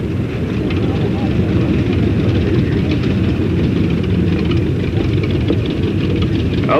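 A vintage Allis-Chalmers tractor engine runs steadily at an early-day tractor and engine show in Texas, a dense continuous rumble with no clear breaks. Someone talks over it.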